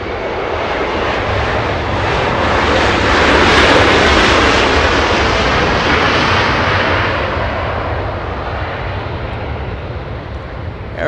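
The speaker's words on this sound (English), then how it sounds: "Alaska Airlines flying in from Seattle" An Alaska Airlines jet arriving from Seattle at Los Angeles International Airport roars steadily as it approaches, swelling to a peak midway and then slowly fading, loud and continuous with no talking.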